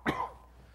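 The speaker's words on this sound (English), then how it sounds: "I didn't forget to shut off the mic before I coughed" A single sharp cough from a presenter giving a lecture on disability, technology and the law, close and loud at the start, then fading into quiet room tone.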